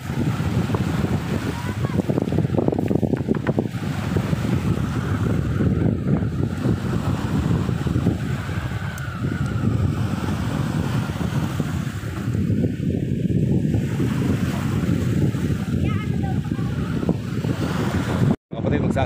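Strong wind on Laguna Lake buffets the microphone with a constant heavy roar, water lapping underneath, while people talk intermittently.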